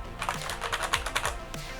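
Typing on a Bloody S510N mechanical keyboard with BLMS switches, a quick uneven run of crisp, close keystrokes with a few heavier thocks, heard alone.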